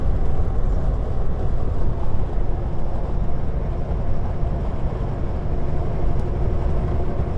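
Steady, loud engine drone and road rumble fill a truck cab on the road near Grand Forks, a continuous low-heavy roar with no pauses or talk.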